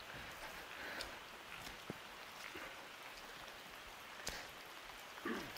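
Rain falls steadily on the houses of a mountain village in Nghe An, a dense even hiss with occasional louder drips and thuds, no voices.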